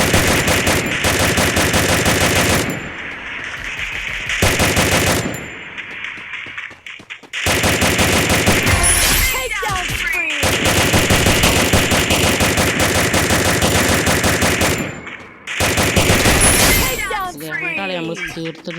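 Loud sustained machine gun bursts in a shooting video game, long rapid-fire stretches broken by short pauses, close and dominant, with someone talking intermittently.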